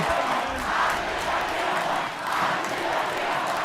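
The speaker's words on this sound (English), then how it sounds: "the home crowd, the homecoming crowd loves it" Homecoming crowd at a Glacier Peak high school football game roaring after a 10-7 win over Arlington, a loud, steady cheer that swells and eases in waves.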